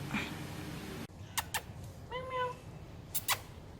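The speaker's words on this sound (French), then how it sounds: "Le chat." Cat meowing close by, a single clear drawn-out meow between short sharp clicks and knocks, fairly quiet, with no speech over it.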